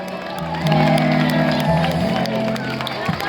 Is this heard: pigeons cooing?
no